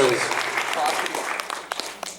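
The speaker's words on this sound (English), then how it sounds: "Give yourselves a round of applause for being a great round of applause." A convention panel audience at a comic con applauds, a dense spread of clapping and cheering close up that starts loud and thins toward the end.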